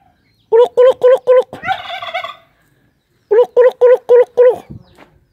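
A turkey gobbles nearby in two bursts, each a quick run of four rattling notes, with a brief warbling trill between them. No one talks over it.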